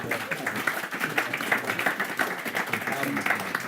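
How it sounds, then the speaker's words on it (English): An audience at an entrepreneurship talk gives a round of applause, a moderate roomful of clapping that rises and thins unevenly, with a voice talking over part of it. "let's just have a round of applause for these handsome men"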